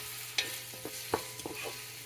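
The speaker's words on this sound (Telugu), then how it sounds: "ఆనియన్ కొంచెం వేసేస్తాము, కట్ చేసి పెట్టుకున్న ఆనియన్ హైలో పెట్టుకుంటే" Chopped onions hit hot ghee and oil on high heat in a pan for a soya chunk veg biryani, with a few scraping stirs and clinks over a soft steady sizzle, close by.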